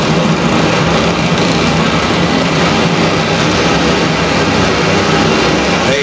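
Stock Light race cars at an indoor championship roar in a dense, continuous wall of engine noise as the heat race gets underway, loud and steady with no letup.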